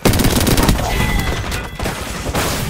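Dense automatic gunfire from the battle royale game Apex Legends rattles in rapid, loud, continuous bursts close up for most of the stretch, with only brief dips between volleys.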